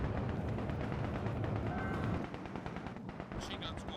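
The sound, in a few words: machine gun fire in Company of Heroes 2 video game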